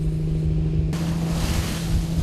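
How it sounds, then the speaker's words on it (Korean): Rough, heavy sea surges and washes around a Busan fishing boat heading out in worsening weather, a broad steady roar with a low engine hum beneath that swells louder partway through. "바다로 나갈수록 파도가 거세진다."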